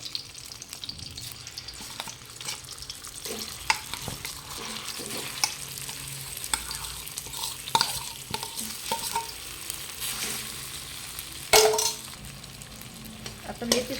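Soaked fenugreek seeds roasted in ghee in a pan, with a steady soft sizzle and a spoon scraping and stirring in irregular strokes throughout, close and moderately quiet, with no talk.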